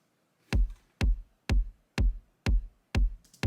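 Seven punchy soft-clipped kick drum hits at a steady, even pace, each one thick and boomy with a slightly squashed, clipped edge.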